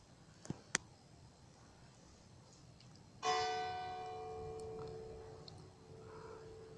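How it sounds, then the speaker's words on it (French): A church bell near an apiary in Crosne sounds on a cold early morning: a single clear, distant strike rings out and slowly decays, following a few faint ticks in quiet outdoor air. "je vais laisser la cloche là. 3 dings"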